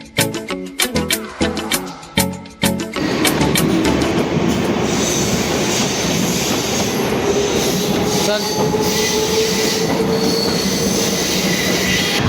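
A Mumbai local train pulls in, its rapid clickety-clack of wheels over rail joints giving way to a loud, steady rumble with squealing wheels as it keeps running close by.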